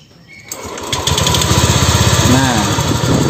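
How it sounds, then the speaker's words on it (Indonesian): A noisy Honda Vario 125 scooter engine is started and then runs with a loud, steady rattling clatter close by. "motor ini kalau pertama kali dinyalakan bunyi kayak rik di bagian mesin"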